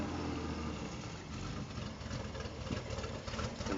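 Rough, uneven idle from a 1997 Ford Explorer engine with a misfire, a steady low rumble with irregular knocking pulses running continuously up close, with no talking.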